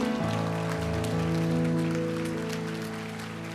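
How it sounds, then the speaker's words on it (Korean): A church congregation applauding during a Sunday worship service, a steady wash of clapping over sustained keyboard chords that slowly tapers toward the end. "우리 하나님께 영광의 박수 하시겠습니다."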